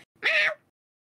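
A single short cat meow, close and clear, rising then falling in pitch against silence.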